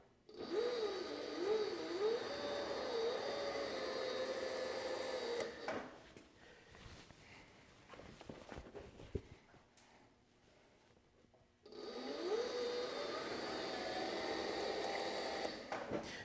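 Cobra NP4 leather skiving machine running as it trims an edge of leather, a steady whirring motor with rising and falling pitch that stops midway, a quieter stretch of handling noises, then the motor whirs up again.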